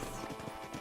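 Horse hooves clip-clopping by a corral in Red Dead Redemption, a quick run of several close, even hoof strikes in a steady walking rhythm with nothing else over them.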